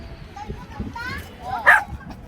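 A small dog gives a few short excited barks and yips indoors, close by, mixed with a person's cheerful talking in the background.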